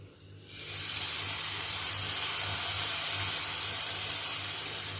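A hot chilli-powder tempering is poured into chembu (taro) buttermilk curry, setting off a sudden loud hiss that settles into a steady, close sizzle.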